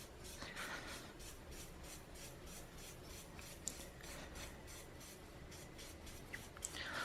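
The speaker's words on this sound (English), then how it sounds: "So I'll just give it a slight rub," Rubbing an aluminium piece to remove laser etch resist, a faint, steady rhythmic scrubbing close up with occasional small ticks, no voices.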